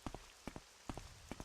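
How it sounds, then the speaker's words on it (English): Rain falling in the Ashlands region of the video game Morrowind, with scattered drops pattering on a surface in irregular clusters over a soft background hiss, fairly quiet and with no voices. "it's raining in the Ashlands, really?"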